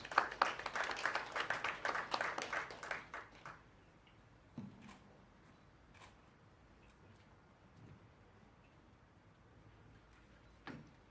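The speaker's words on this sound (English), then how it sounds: "So a round of applause for Bosco even as he comes forward" Audience at a retirement benefits scheme stakeholder forum clapping as a speaker comes forward; dense applause for about three seconds, then it dies to scattered single claps and quiet room noise.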